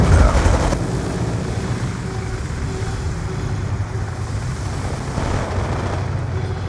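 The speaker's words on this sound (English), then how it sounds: "Hellstorm missile inbound." An incoming Hellstorm missile in Call of Duty roars as a loud, steady rushing drone, opening with a heavier burst and holding a thick, sustained whoosh throughout, with no voices over it.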